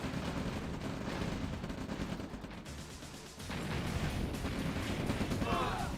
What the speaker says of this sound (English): Oh, that artillery.